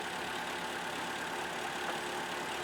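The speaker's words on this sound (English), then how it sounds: "Signal just changed and the engine RPM got rough" A Toyota Venza engine idles roughly, a steady dense mechanical hum with no clear pulses, heard alone at moderate level.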